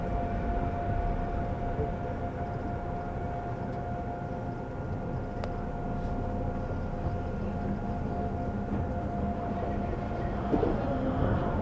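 Seoul subway train running along its line during a morning commute, a steady loud rumble and rolling hum with a faint high whine throughout, with no talk.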